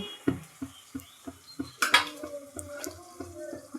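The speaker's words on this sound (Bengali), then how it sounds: "এবার এর মধ্যে দিয়ে দেব এঁচড় যেটা ভেজে রেখেছিলাম এঁচোটা দিয়ে দিচ্ছি" Fried jackfruit being stirred into cooked-down spiced masala in a pan, with a steady run of close spatula scrapes and clinks against the metal and a brief sizzling burst partway through.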